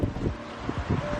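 Cold wind gusts outdoors in Germany on a chilly day. Low, rumbling buffeting hits the microphone in uneven bursts over a steady hiss.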